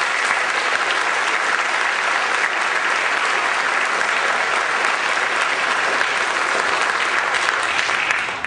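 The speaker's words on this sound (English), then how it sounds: "Let's give him a round of applause." Sustained audience applause in a concert hall during a symphonic band and wind ensemble spring concert, a dense, steady wash of clapping that stays loud and even for the full duration with no talking over it.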